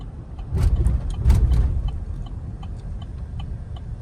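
A 4th-generation Chevrolet Tahoe drives along and brakes, with a steady low road and engine rumble that swells briefly before easing off, heard from inside the cabin.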